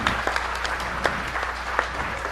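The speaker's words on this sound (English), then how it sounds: "Jennifer, everybody give Jennifer a hand of applause." Applause rises from the crowd at a DEF CON hacking conference talk, a faint, steady wash of many hands clapping at a distance with a few sharper claps poking through.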